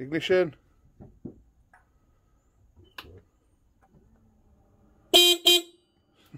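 A Crafter campervan's horn honking twice near the end, two loud close toots, following brief talk and faint clicks in a quiet setting.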